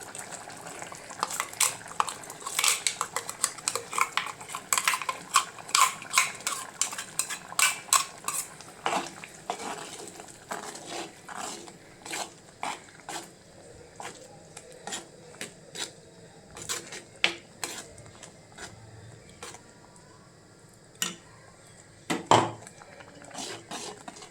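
Ground coconut blended with curd is poured into a pot and stirred. A utensil clinks and scrapes against the pot in quick, irregular taps, close by, with a few sharper knocks near the end and no talking.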